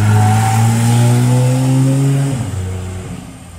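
A GT3 sports car at a sports car festival and rally in Kitzbühel drones loudly past with a rising engine note, then the pitch drops sharply as it passes and the sound recedes.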